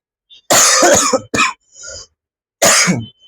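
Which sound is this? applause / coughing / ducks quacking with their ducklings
coughing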